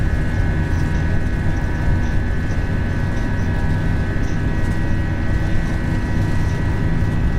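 An Airbus A319-115 airliner's engines at takeoff thrust, a loud, steady, dense roar with a constant whine, heard from inside the cockpit without pause.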